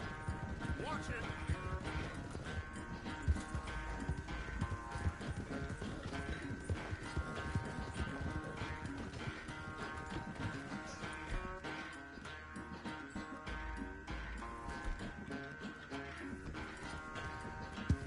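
Horse hooves clip-clop steadily through a race in the video game Red Dead Redemption 2, a continuous galloping rhythm under voices and busy game sound.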